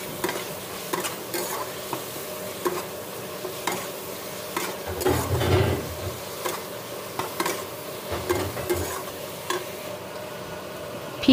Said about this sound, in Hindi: हम इसमें ऐड करेंगे प्याज का पेस्ट और इसे भी सौते करेंगे कुछ मिनटों के लिए।